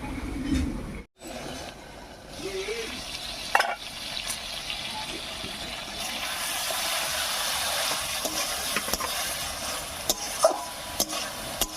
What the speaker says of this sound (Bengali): চিংড়ি মাছটাকেও মশলার সঙ্গে ভালো করে কষিয়ে নিয়েছি